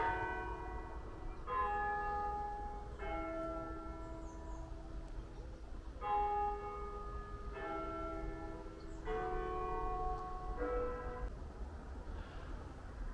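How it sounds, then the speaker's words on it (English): The church bells of St. Mark's ring out in a steady sequence of resonant, overlapping strikes, heard from a little distance inside stone burial vaults, with a low background rumble beneath. "there's the bells in St. Mark's in the background"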